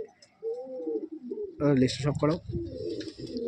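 Madrasi pigeons from an old bloodline loft give soft, low coos mixed with someone speaking over them close by, the cooing rising and falling in short phrases.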